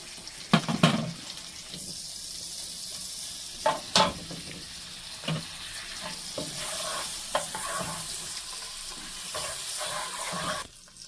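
Butter melts in a pan for beef steak with a broad, continuous sizzle, broken by several clattering knocks of a utensil stirring and scraping the pan close by.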